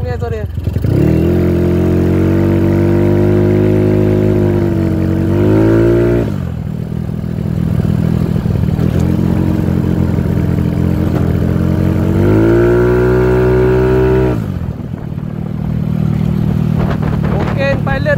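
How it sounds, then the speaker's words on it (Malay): A Yamaha Nouvo S motorcycle exhaust revs loudly and close, with long sustained roars that swell and drop back between throttle blips. "Sedap lah exhaust dia bunyi."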